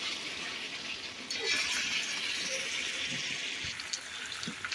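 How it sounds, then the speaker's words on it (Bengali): Water poured into a pot of braised meat to make gravy, a steady gushing splash that swells midway and continues alone at close range. "আমি এখন জল দিয়ে দিচ্ছি।"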